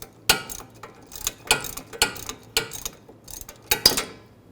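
A ratchet loosens the hub bolt on the front wheel bearing of a 2007-2013 BMW 328i, making sharp, close clicking bursts in an irregular rhythm of about eight strokes.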